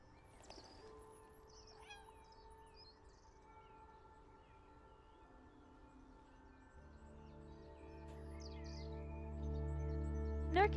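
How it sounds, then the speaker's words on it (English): Bird chirps in the Catjam video game, a few quick tweets near the start and again near the end, set over steady electronic tones and music that swell louder in the final seconds. "Bird."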